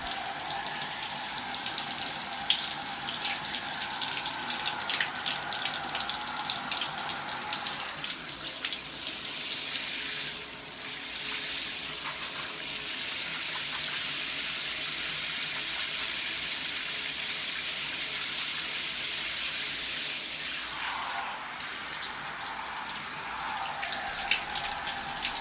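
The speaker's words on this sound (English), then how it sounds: "That squish squish sound is exactly what you want to hear when you are doing the squish to condish method." Wet curly hair being squished with conditioner in the squish to condish method, a steady close wet squelching and sloshing texture running throughout without talk.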